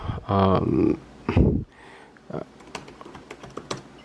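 Computer keyboard typing, a short close burst of clicky keystrokes following a few seconds of someone speaking at the start.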